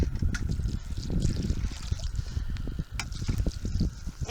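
Water pours steadily onto rose bushes in a spring garden, a continuous close splashing trickle with small irregular spatters into soil and foliage, heard without any talking.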